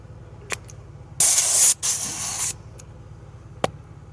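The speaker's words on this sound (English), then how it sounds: "we'll just spray the clear coat on that" Clear coat is sprayed onto a machined Mercedes-Benz GT 53 AMG wheel in two close, sharp hissing bursts, the first shorter, with faint clicks before and after in an otherwise quiet room.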